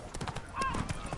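Roach the horse gallops in The Witcher 3, quick rhythmic hoof clops close up, with a voice talking over the hoofbeats.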